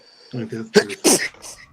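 A single sharp sneeze bursts out among short, close voiced sounds, loud and abrupt.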